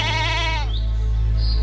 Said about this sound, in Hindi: उसी गांव में एक साधारण सी लेकिन बहुत समझदार बकरी रहती थी।